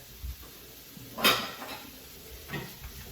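A bowl being taken out of a kitchen cupboard while ham and white bean soup is served, a few soft clinks and knocks of dishware with a sharper clatter in the middle.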